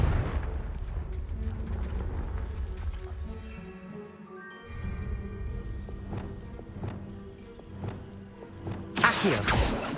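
In Hogwarts Legacy, the Confringo explosive spell goes off as a string of deep booms and thuds over game music. A loud, sharp blast comes near the end.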